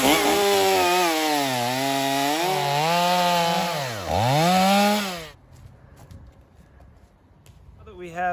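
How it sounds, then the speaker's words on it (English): A chainsaw cuts a round of firewood, its engine whining loud and close with rising and falling pitch as it bogs into the wood, then cutting out abruptly to quiet background. "So the first thing I'm going to show you is how to use the chainsaw."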